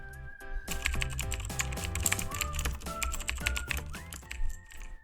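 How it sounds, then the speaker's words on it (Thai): Rapid computer keyboard typing used as a sound effect in a CapCut edit, dense clacking keystrokes in a steady close stream, loud and without speech. "ผมจะปรับความยาวของเสียงคีย์บอร์ดลง"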